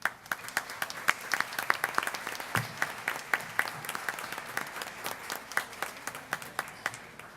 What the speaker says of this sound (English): All of the JFK performers, one big round of applause for them again